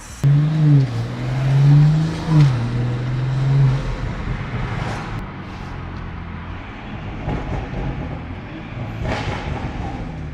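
A Toyota Supra's engine revs while driving on the N340 road, its deep tone rising and falling for a few seconds before settling into a steady drone under road noise.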